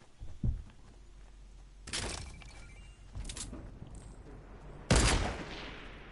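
Several loud gunshot blasts from a hand cannon in a video game, separated by pauses, each a sharp crack with a lingering tail.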